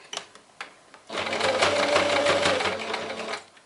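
A sewing machine runs steadily for a couple of seconds while stitching a seam on a small heart-shaped zip pouch, preceded by a few light clicks and handling taps, then stops.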